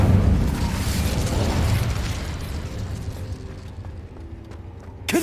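A fiery Incendio spell cast in Hogwarts Legacy: a loud whooshing burst of flame that roars at first, then gradually fades into a crackling tail, with a small pop at the end.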